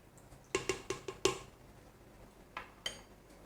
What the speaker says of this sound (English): I'm also going to give it a quick stir.